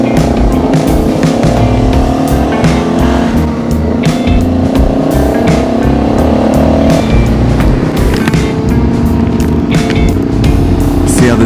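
A motorcycle with a louder aftermarket pipe is ridden on a mountain road in southwestern Crete. Its engine drones steadily and loudly throughout, mixed with heavy wind rush, with no break in the noise.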